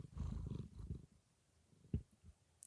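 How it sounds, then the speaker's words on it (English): A cat purring softly and close, low rumbling pulses through the first second, then quieter with a faint thump, no voices over it. "There's a cat purring."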